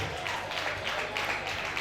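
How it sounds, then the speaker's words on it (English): Applause from a concert crowd, a dense, even wash of clapping that sounds fairly distant and soft, running steadily throughout with a voice partly over it. "On l'applaudit encore, s'il vous plaît."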